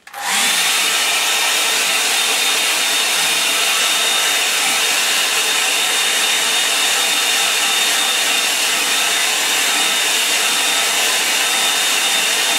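A hair dryer blows steadily and loudly on a wet painting of two figures by a lake, a continuous broadband whoosh that starts abruptly and holds without a break.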